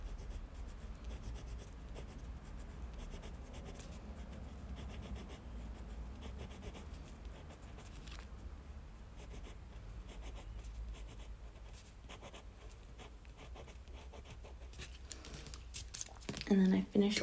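A cool gray Copic alcohol marker rubs and scratches softly as it blends color on a paper cupcake drawing, a continuous close scratching under a speaking voice.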